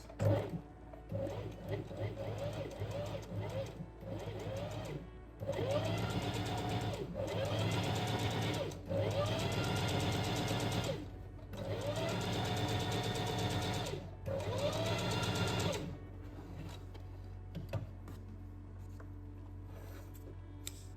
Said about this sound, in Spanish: Voy a coser paralela a la costura que he hecho antes.